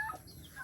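Rhode Island Red chickens give a brief burst of clucking in a farmyard, with a turkey and geese kept nearby, the calls close and moderately loud.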